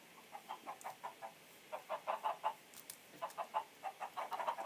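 Video game chickens clucking in short bursts of rhythmic clucks separated by brief pauses, soft and close with no talking.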